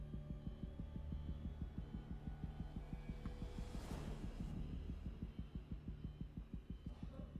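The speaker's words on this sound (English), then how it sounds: "Like her heartbeat racing." A racing heartbeat in the video game Alien: Isolation, with rapid, steady low thumps pulsing throughout over a humming, tense backdrop, close and prominent.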